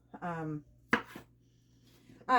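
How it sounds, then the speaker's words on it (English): A knife chops zucchini on a cutting board with a couple of sharp, close taps, preceded by a short spoken phrase and followed by more talk. "I'm going to cut it down the middle long ways and then dice them"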